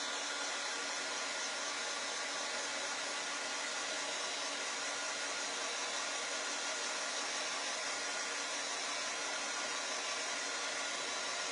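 A dryer blows steadily on chalk paste spread over craft house cutouts, a constant close whooshing hum of warm air with no breaks for its full length.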